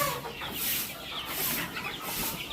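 Golden Sonali layer chickens cluck continuously nearby, a busy overlapping flock with steady background noise.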